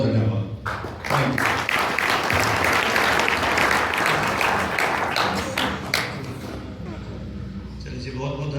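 A crowd at a district-level NSS camp at a Prajapati dharamshala in Kapal Mochan breaks into loud, sustained applause. The clapping stays dense and steady for several seconds, then thins out near the end.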